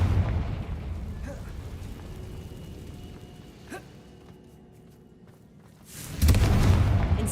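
Casting the Confringo explosion spell in the video game Hogwarts Legacy sets off a loud, booming burst after a quieter stretch of rumbling ambience, and an earlier blast fades out at the start.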